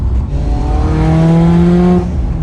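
A Mitsubishi EVO X fitted with an upgraded turbo pulls hard under acceleration, its loud engine note climbing steadily in pitch for about two seconds before easing off, with no talk over it.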